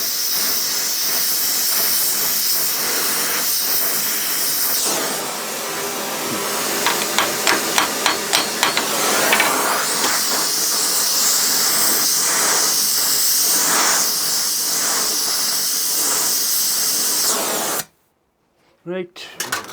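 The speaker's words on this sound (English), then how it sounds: "Nice to put a cutting torch on here to get some more heat into it." Cutting torch heating the cast manifold around a broken turbo stud, a steady loud roaring hiss with a brief flurry of popping and clicks partway through, cutting off abruptly near the end while a person talks.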